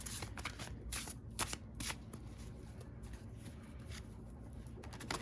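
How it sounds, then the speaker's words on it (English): Cards from an animal oracle deck riffle and slide in steady, soft shuffling, with faint bird cooing in the background and no talking. "I'm going to pull you an oracle card from, what is this? The Spirit of the Animals Oracle deck."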